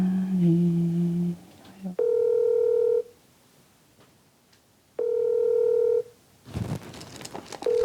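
A telephone rings out on an unanswered call, giving two clear one-second ringback tones separated by silence, preceded by a different, briefer tone and ending with a rustling handling noise.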